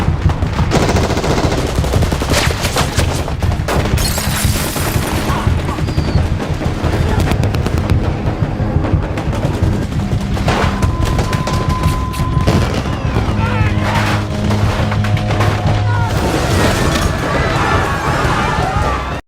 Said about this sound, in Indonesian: Tembakan segera meletus saat kembang api dari pesta pernikahan dimulai.